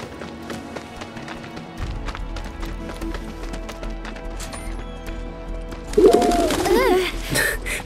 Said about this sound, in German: Die Tauben lieben sie einfach.